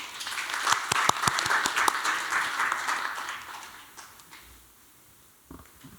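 Audience applause welcomes a K-water future city center director to the podium at an environmental leaders' forum, a dense burst of clapping that fades out over the last few seconds, ending with a few faint sounds.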